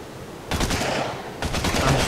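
Rapid automatic gunfire from a weapon in the video game ARK Survival Evolved comes in two loud, close bursts of fast repeating shots with a brief gap between them.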